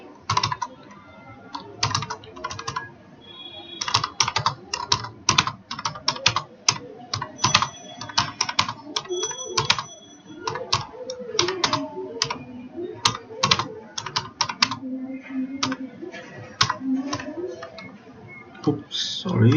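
Fast, irregular keystrokes on a computer keyboard while Java code is typed, clicks coming in bursts and runs, with a person talking intermittently underneath.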